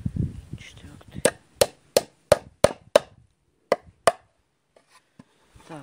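Nails are hammered into a homemade wooden bee trap: a run of sharp, evenly spaced hammer blows, then a pause and two more strikes, with a few faint taps afterward and muffled talk at the start.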